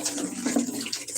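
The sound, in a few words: homemade plant nutrients poured into buckets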